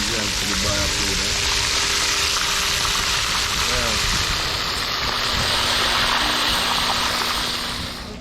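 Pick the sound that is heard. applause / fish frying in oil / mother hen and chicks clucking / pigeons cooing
fish frying in oil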